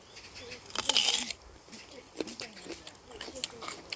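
Someone bites into a raw storage onion and chews, a crisp crunching burst up close followed by quieter chewing sounds, with no talking.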